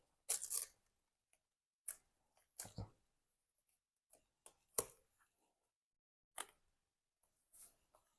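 Adhesive tape being peeled off in short, quiet bursts, a few separate ripping sounds spaced out over several seconds, with silence between.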